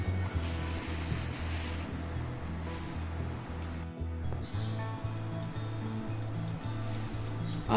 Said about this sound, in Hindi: आप देख सकते हैं हमारा पानी बॉईल हो रहा है।